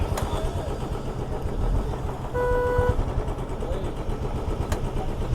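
Vehicle traffic on a coastal road in the Konkan, with a steady engine rumble and passing cars, a brief horn-like tone midway, and faint voices in the background.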